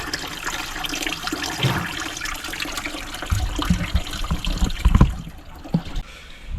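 Rusty brown coolant drains from a skid steer, a steady close liquid pour and trickle with splashing that grows louder and more broken toward the end, alone without talk.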